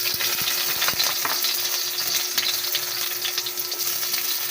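Food frying in cooking oil in a pan, a steady loud sizzle with a few sharp clinks near the start, no voices.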